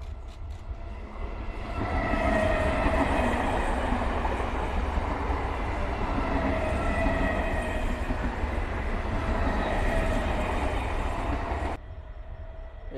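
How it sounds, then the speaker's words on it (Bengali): A train rolls steadily past from Murshidabad station toward Lalgola, with continuous rumble and rail clatter building at close range, then cutting off abruptly near the end. "এই ট্রেনটি মুর্শিদাবাদ স্টেশন থেকে লালগোলার দিকে গেল।"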